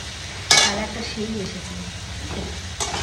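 Poppy seed curry being stir-fried dry in a pan, a sharp clink of the utensil followed by a low sizzle and faint stirring scrapes, close by.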